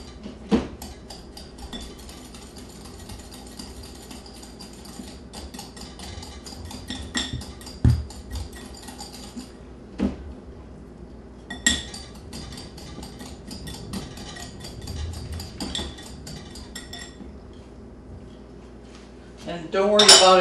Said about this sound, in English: I'm going to use a pastry blender again.